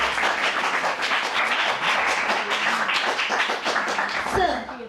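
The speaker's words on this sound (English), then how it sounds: "Please join me in giving a hard round of applause" School event audience at an Indian school in Al Seeb applauds to welcome a speaker, steady dense clapping throughout at close range.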